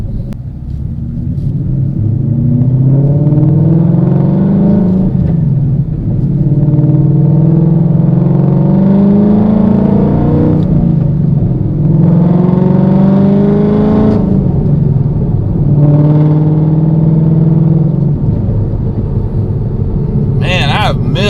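A car fitted with a T56 Magnum XL transmission and a freshly repaired differential rumbles loudly from inside, its engine note climbing through repeated rising surges as it accelerates through the gears, then easing between pulls.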